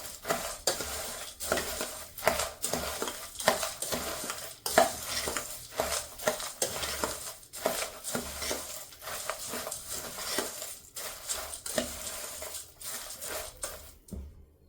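Stirring a savoury mixture snack seasoned with asafoetida powder produces a steady rhythm of close scraping, rattling and scratching strokes against the pan, with light crunchy shuffling between them.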